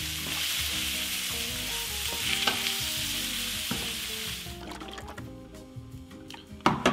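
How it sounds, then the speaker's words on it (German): Pumpkin pieces fry with onions and other ingredients in a pan, a steady close sizzle with occasional stirring clatter, settling quieter toward the end. "Und den Kürbis schön mit den Zwiebeln und den anderen Zutaten mitbraten."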